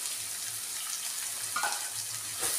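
Chopped onions frying in oil with cumin and mustard seeds, a steady moderate sizzle and hiss with a faint stir or scrape near the end, no talking.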